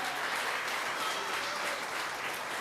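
A church congregation breaks into sustained, dense applause, a steady wash of many hands clapping at once that holds evenly throughout without any speech.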